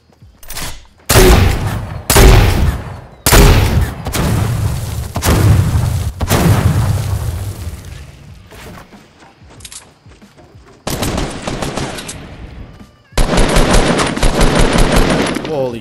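Video game gunfire in Fortnite Battle Royale: loud bursts of rapid automatic shots and heavy booms come in separate volleys with short gaps, close and harsh, with a player talking in between.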